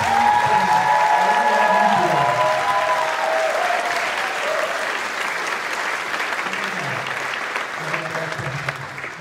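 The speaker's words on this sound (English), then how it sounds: "I really, really, really would like you all to give Miss Pat Fasciano a round of applause." Loud, full audience applause at a high school spring concert, dense and sustained for several seconds, with a few tonal sounds and a brief murmur of voices beneath at the start and end.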